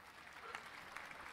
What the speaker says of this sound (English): Jason has got an applause button too, but it's not nearly as polite and restrained